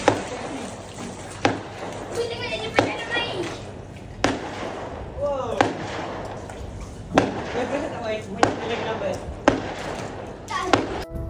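Night fireworks display bursts in repeated sharp booms and crackles, spaced a second or two apart at moderate distance, while people talk and children play in a pool nearby.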